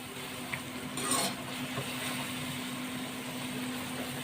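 String bean adobo is stirred in a pan over a steady low sizzle, with one brief scraping stroke early on and a constant background hiss.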